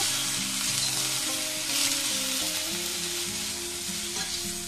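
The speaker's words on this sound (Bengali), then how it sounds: "2-3 মিনিট একটু ভেজে নেব।" Cauliflower pieces crackle in hot oil with turmeric and salt, a steady, loud, close sizzle that holds evenly throughout, with light stirring underneath and no voices.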